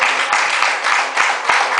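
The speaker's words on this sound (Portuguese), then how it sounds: "As palmas logo, Senhor Jesus." A church congregation claps together during an evening service, giving steady rhythmic applause with regular beats about every third of a second, close and moderately loud.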